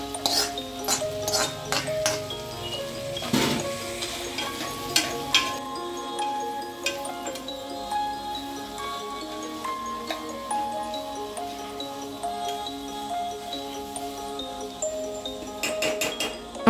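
A spatula scrapes and clinks against a pan while okra fried rice is mixed, giving irregular metallic taps and ringing clatters throughout, near and fairly loud, with no voices.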